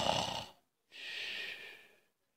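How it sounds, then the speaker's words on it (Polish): An audiobook snoring effect for a sleeping character gives two drawn-out snoring breaths, one short and raspy and one longer and wheezy, close up with a brief silence between them. "Nazajutrz Gaweł jeszcze smacznie chrapie."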